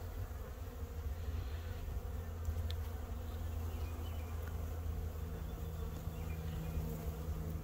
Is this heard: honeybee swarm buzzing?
yes